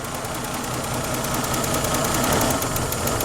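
A Lexus engine with a stalling fault runs rough and refuses to rev, a steady close, loud uneven idle with a knocking, vibrating undertone and no rise in pitch.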